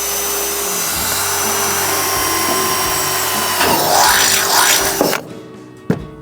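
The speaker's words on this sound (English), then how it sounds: "The good thing is that it's aluminum, it drills easily." A handheld power drill bores a hole through aluminum while a remote control kit is mounted, a loud close whine that rises in pitch and grinds as the bit cuts, then stops abruptly with a final clack.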